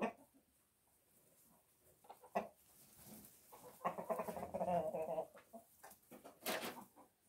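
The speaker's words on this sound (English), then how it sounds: "Boy, these roosters." Roosters clucking and calling near a backyard flock, scattered bursts of clucks with a louder run in the middle and another toward the end, fairly faint against a quiet background.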